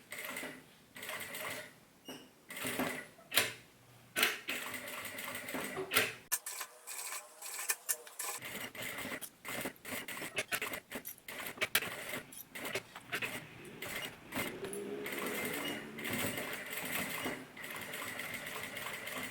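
A sewing machine stitching a fabric shoulder bag, running in quick mechanical bursts separated by pauses and handling noises, with a longer stretch of steady whirring near the end.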